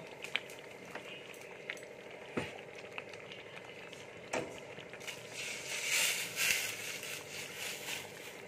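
Hot water is poured onto sautéed chicken curry in a pan, giving a soft, steady frying sizzle that swells into a louder hiss and bubbling near the end. It is quiet and close, with no talking.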